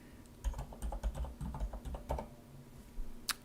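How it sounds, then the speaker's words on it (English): Keys clatter on a computer keyboard during typing in Chinese, a soft, close run of uneven clicks and taps with short pauses, quiet and alone without speech. "I'm typing in Chinese."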